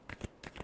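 A few quick, soft flicks of a tarot deck being shuffled by hand, faint and close, with no talk.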